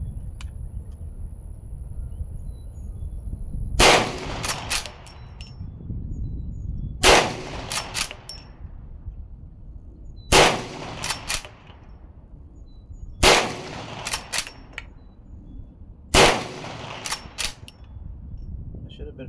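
A Smith & Wesson 1854 .44 Magnum rifle fired outdoors: five loud, sharp shots spaced roughly three seconds apart, each followed by a quick pair of metallic mechanical clicks, over a low background murmur.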